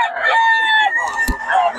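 A rooster crows loudly and close by in one long, drawn-out call, with a brief low thump partway through, at a poultry market in Bocaue, Philippines.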